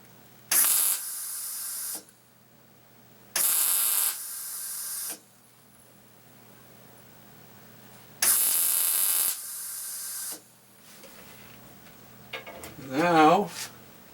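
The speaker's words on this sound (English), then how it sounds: "Now I can weld before I run out of battery. Let's see how we make out. Just a spot weld." Spot welding a rear grab bar on a 1986 Honda motorcycle: three steady, loud hissing, crackling weld bursts of one to two seconds each, separated by quiet pauses, followed by a brief wavering tone at the end.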